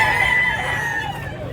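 Close and loud, a single sustained crow comes from a dark, green-legged two-year-old gamecock in Mantalungon, Cebu, holding steady for most of its length before tapering off.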